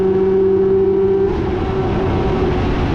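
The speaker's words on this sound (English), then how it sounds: "Accelerate up to 5th gear" A motorbike accelerating hard up through the gears to fifth on the main straight of the Dubai Autodrome GP circuit, a loud continuous engine roar whose pitch shifts once partway through, close and steady with no talking.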